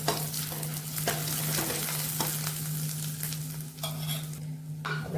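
A spoon stirs masala with garam masala in a sizzling pan for batata vada, with repeated scraping strokes over a steady frying hiss and a constant low hum.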